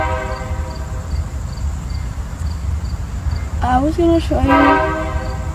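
A train passes with rumbling wheels and a steady rolling roar, and near the end its horn blasts in a couple of loud, wavering tones while a voice speaks briefly underneath.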